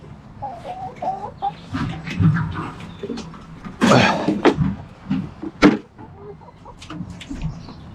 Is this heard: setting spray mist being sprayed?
no